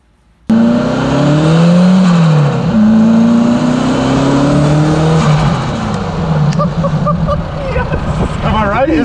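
A turbocharged air-cooled VW engine pulls hard under acceleration, its loud rising whine and roar heard from inside the car, with excited voices talking over it.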